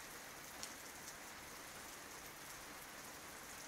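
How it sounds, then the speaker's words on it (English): Steady rain from a passing storm falling on a surface, a soft continuous hiss with a couple of faint drip ticks, no talk over it. "I think the storm's about over, actually."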